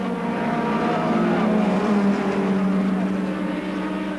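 At the 1988 ETCC RAC Tourist Trophy at Silverstone, a touring car roars past at speed, its engine note swelling and shifting while race commentary runs over it.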